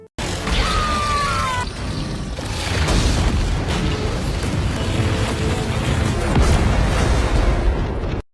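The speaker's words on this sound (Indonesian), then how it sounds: "Nine semakin menarik energi prisma menyerang kapal induk Chaos Council hingga meledak." Chaos Council mothership from the animated series Sonic Prime exploding in a loud, sustained rumbling boom with crashing debris, dense and continuous for several seconds, with a brief high whistling sweep near the start.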